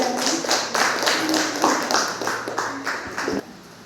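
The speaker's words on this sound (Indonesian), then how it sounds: "Jawaban benar kita beri aplaus untuk KSD" A small group applauds for a correct answer, about ten distinct, evenly spaced claps at close range in a classroom-style quiz, sharp and fairly loud, with faint talking beneath.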